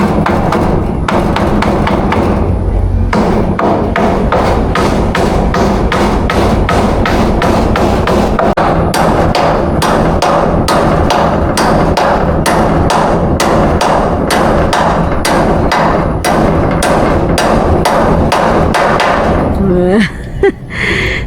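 Hammer strikes drive nails into wood at a Batangas rest house under construction, a long run of loud, rapid, evenly spaced blows with brief pauses, while people talk nearby.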